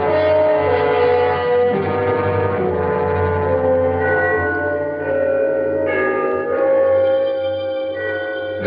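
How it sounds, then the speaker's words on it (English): Trinity church bells chime the three-quarter hour in a city, rich overlapping ringing tones that sustain and blend in a continuous, loud peal with no talking. "The bells of Trinity had just run the 3/4 hour"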